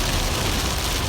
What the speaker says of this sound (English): We'll try to wait out the rain.